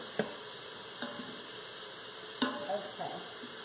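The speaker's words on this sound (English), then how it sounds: "So what we want to do is get these cooking nice and saute until they're a little bit translucent." Vegetables sauté in a pan with a steady, moderate sizzle, broken by a few light clicks of stirring and faint background speech.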